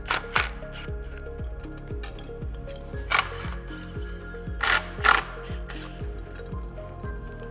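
Repeated ratchet strokes come through as a wrench takes off the winch fairlead mount on a Kawasaki Mule Pro FXT, with steady rapid clicking in bursts and a few sharper metallic clanks, close up and without talk.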